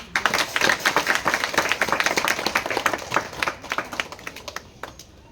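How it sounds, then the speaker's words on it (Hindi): A crowd applauds, many hands clapping irregularly, strongest at the start and gradually thinning toward the end. "उसके लिए बड़े जोर से ताली बजाएंगे हम"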